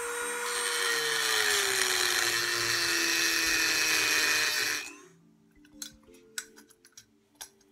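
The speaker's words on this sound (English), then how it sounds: "if we get out the Dremel and grind that down, it should be just fine" A Dremel rotary tool grinds out a hole in a sailboat centerboard, a loud steady high-pitched whine that holds for about five seconds, dips slightly in pitch under load, then cuts off, followed by faint scattered clicks and taps.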